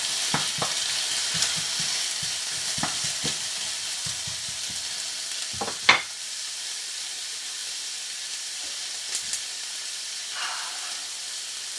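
Onions frying in a pan, stirred with a wooden spoon: steady sizzle with scattered scraping clicks and stirring knocks, close by, one sharper clatter midway.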